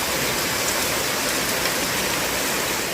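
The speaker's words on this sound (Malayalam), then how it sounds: "അതിൻ്റെ ഇടയിൽ ഒരു രക്ഷയില്ലാത്ത മഴയും പുറത്ത്." Heavy rain pours outside as a dense, steady hiss of constant volume, with no voices.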